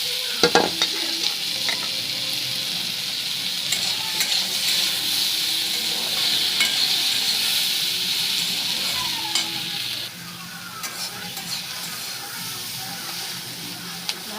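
Chopped onions sizzle in hot oil in a pan and are stirred with a spatula, giving a steady frying hiss broken by scraping strokes. The sizzle drops a little near the end.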